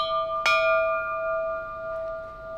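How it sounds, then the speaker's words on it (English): A single struck metal gong rings out once near the start, a sharp attack followed by a long, steady shimmering tone that sustains and slowly fades over the rest of the moment, close and fairly loud with no talk. "Gong, not bell,"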